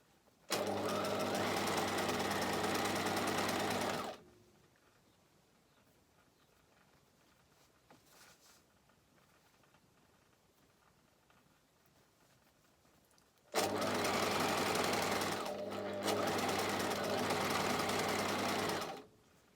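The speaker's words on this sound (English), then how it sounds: "Off we go with the machine sewing." A sewing machine stitching 1920s-style beach pyjamas runs in two loud, steady bursts of a few seconds each, separated by a long quiet pause with faint handling noises.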